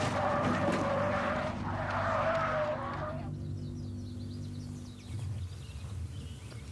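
A car spins out at speed on a driving course, tires squealing loudly for about three seconds in two strong surges over engine noise, then fading into a lower rumble as the car slows.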